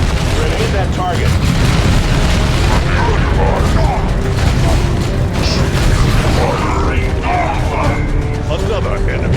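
A grenade explosion in the Warhammer 40,000: Dawn of War 2 game, with booming blasts, gunfire and clanking mechanisms in a dense loud battle mix, and game voices speaking over it.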